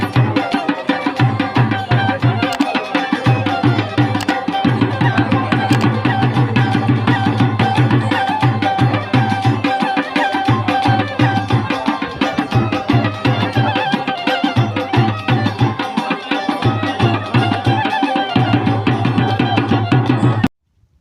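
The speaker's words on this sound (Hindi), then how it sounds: "ये बीन बजा रहे हैं। थोड़ा बीन भी आप सुन सकते हैं इसका।" A been, the snake charmer's pipe, plays a wavering, reedy melody over a steady low drone at a dargah fair. It is loud and close, runs for about twenty seconds, and then cuts off abruptly.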